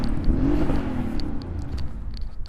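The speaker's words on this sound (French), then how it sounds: "il m'énerve lui avec cette moto" A motorcycle engine drones loudly nearby, its pitch sweeping as it passes and then fading slightly into a steady rumble, with faint ticking sounds on top and no talking.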